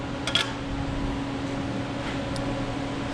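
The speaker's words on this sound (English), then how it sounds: "This is the heating system." A workshop heating system runs as a steady, low mechanical hum with a faint fan-like hiss, constant and fairly quiet, with a couple of brief small clicks.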